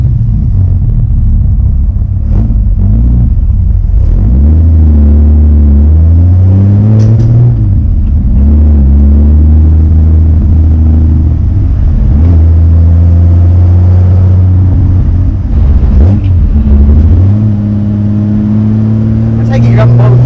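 A Jaguar C-Type replica engine driving: a loud, deep rumbling drone that repeatedly climbs and falls in pitch as it revs through gears, close and continuous, with occasional brief noises over the top.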